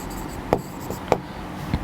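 Writing on a board during a history lesson: three sharp taps of chalk or marker spaced about half a second apart, faint scratching between them, no voices.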